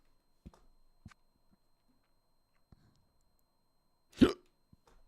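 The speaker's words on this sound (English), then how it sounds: "Oh, the hiccups." A person hiccups several times with short, sharp jolts spread irregularly across a few seconds, then one louder, fuller hiccup near the end, all close by and otherwise quiet.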